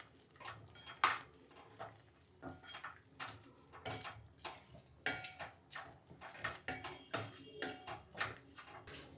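A utensil stirs ridge gourd and moong dal curry with sambar powder in a pan, giving soft, irregular clinks and scrapes against the metal. The sounds repeat steadily and stay quiet, with no talking.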